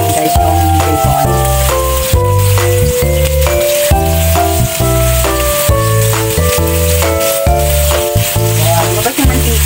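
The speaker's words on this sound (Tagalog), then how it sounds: "Fry natin ng konti guys yung bacon." Bacon frying in hot oil makes a steady, dense sizzle that runs continuously beneath loud background music.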